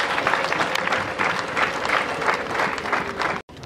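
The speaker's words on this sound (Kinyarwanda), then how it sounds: "Amashyi menshi." Loud, steady applause from a crowd at an Anglican church ceremony installing a new bishop of the Shyogwe diocese in Rwanda, sustained throughout before cutting off abruptly near the end.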